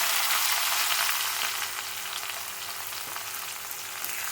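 Tamarind, ridge gourd peel and curry leaves fry in oil over a low flame for a chutney, giving a steady, close, loud hiss of sizzling that eases slightly partway through, with no talking.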